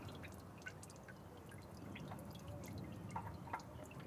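Used engine oil drains from a recently driven, still-hot Chevrolet Impala during an oil change, a steady faint trickle of liquid with occasional drips throughout.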